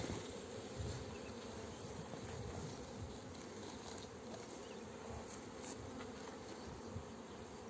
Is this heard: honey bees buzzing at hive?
yes